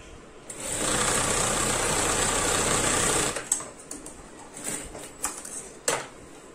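A sewing machine runs steadily for about three seconds, stitching an invisible zip onto a gown or kurti, then stops, leaving a few soft handling clicks and rustles.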